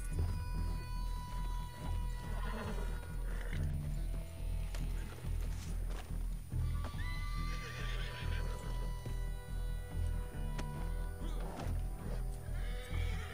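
Horse in Red Dead Redemption 2 neighs and whinnies repeatedly over soft hoof clip-clop and a low game music bed, with faint speech in the background.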